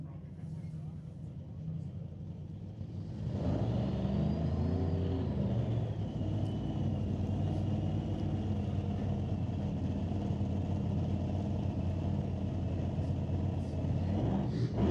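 A blown alcohol drag racing car rumbles loudly at the track, its supercharged engine roaring in after a few seconds and holding a heavy, sustained drone throughout, with an announcer talking over it.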